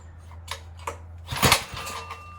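A Tecumseh H35 small engine on a Sears mini bike sputters with a few sharp pops and a brief rough catch in the middle, close up, amid faint mechanical clatter and hum.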